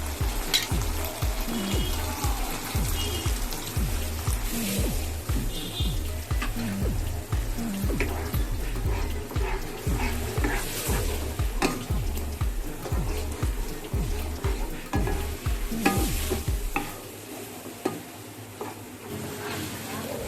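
Cornflour slurry poured into gravy chilli chicken frying in a pan, a continuous bubbling sizzle with rhythmic scraping stir strokes of a spatula, close and loud, fading to a quieter simmer near the end.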